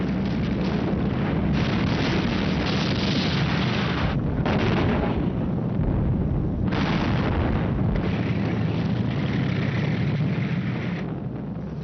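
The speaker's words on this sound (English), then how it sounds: "The Soviet T-34s drove into the German lines and opened fire at point-blank range." Dense, continuous battlefield roar of Soviet T-34 tanks firing at point-blank range during a huge World War II armoured clash, loud and sustained with heavy rumbling blasts and brief dips, no voices.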